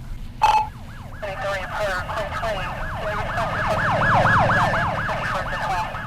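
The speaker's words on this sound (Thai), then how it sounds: "ตอนนี้มีเสียงตำรวจ" A police siren in the Roblox game Repleh County Archives wails in rapid rising and falling sweeps, loud and continuous, after a sharp knock at the start, over a low background rumble.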